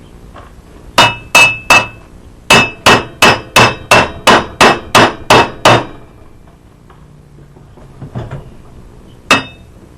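A hammer taps on the square end of a Snapper mower part, ringing metallic strikes in two quick bursts of evenly spaced hits, then a pause, faint clatter and one last loud blow.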